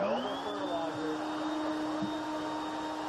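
A vacuum cleaner sucks surface fertilizer off indoor potted plants, with a steady, even whine and airy hum that runs unbroken at moderate level.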